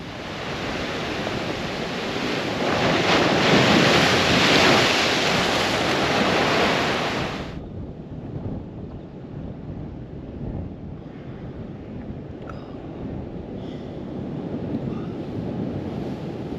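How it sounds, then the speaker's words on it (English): Waves crash on the shore at Southwold, a loud, rushing surge of surf that swells and then recedes into a softer, continuous wash with gusty wind noise. "that's a bit worrying when the waves crash over the top a little bit"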